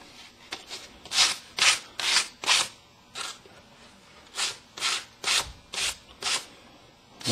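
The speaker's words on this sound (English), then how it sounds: "Now we'll take a piece of sandpaper" Sandpaper scrubbed against the end of a wooden peg in a run of short, rhythmic rasping strokes, close and fairly loud, with brief pauses between bursts.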